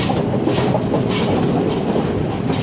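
A train from Kandy to Ella rumbles slowly and steadily along the tracks, close and loud, a continuous rolling roar with faint rhythmic clatter of the wheels.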